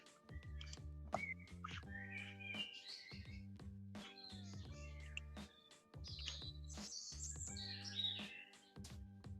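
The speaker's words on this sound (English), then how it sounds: "The birds are going, Rufus, over from your end." Birdsong from a live stream setting, with rapid high chirps and tweets layered over a steady tonal hum, continuous and moderately loud, with no speech.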